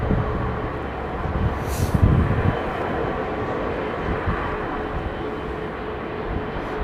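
A jet airliner taxiing at London Heathrow Airport, a steady distant engine roar and whine that holds at a constant level throughout, with no talk.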